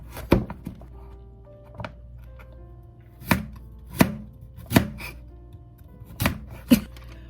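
A knife cuts raw sweet potato into strips on a board, with sharp, separate chopping thuds coming in an irregular rhythm, close and clear against a quiet room.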